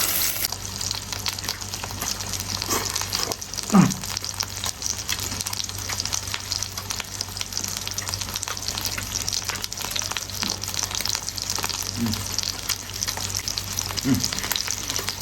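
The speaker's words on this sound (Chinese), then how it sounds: "这锅煎牛排得劲了，2面都完煎" Steak sizzles and spits in a griddle pan, a loud, continuous frying hiss throughout, with a few brief clanks and no speech.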